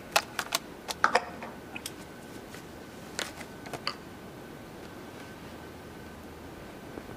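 An ice cream wrapper is torn open, a quick cluster of crisp crinkles and clicks at the start, then sparse faint rustles against a soft background hiss.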